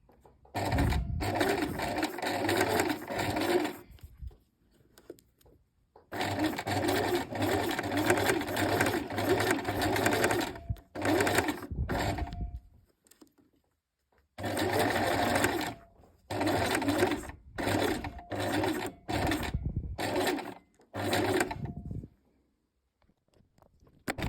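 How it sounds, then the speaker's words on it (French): A sewing machine runs a straight stitch along piping while sewing trousers, its rapid mechanical whir coming in several bursts of a few seconds each, separated by short silent pauses, close and clear with no talking. "vous allez coudre à 5 mm du bord sur votre passepoil. Au point droit, toujours longueur sur 3."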